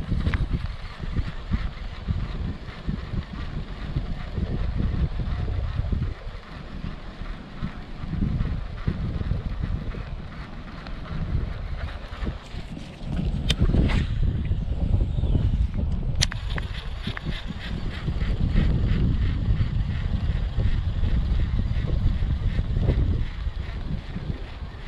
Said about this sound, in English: go over here to where this wind is blowing and throw this rattle trap some more